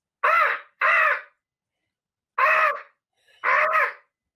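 A person imitates a crow's caw with four loud, harsh vocal caws near the mic, two quick ones, a pause, then two more, with no other talk.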